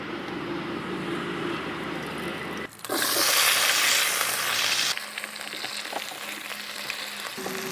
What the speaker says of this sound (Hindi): अभी अपने आलू फ्राई हो रहे हैं